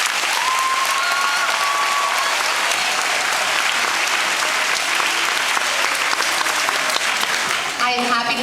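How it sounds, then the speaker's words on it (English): Audience applause fills the room, loud and sustained, with dense, steady clapping for about eight seconds that begins to thin out near the end. "Let's give them a round of applause."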